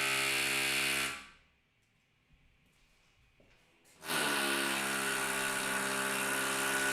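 Builders drill holes in a building surrounded by scaffolding: a loud, steady, whining drill runs close by, stops for about three seconds, then starts again at full strength.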